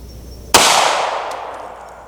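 A single sharp gunshot from ball ammunition fired into a penetration test setup, one loud close report at the start that rings and decays over the next second and a half, with no talking.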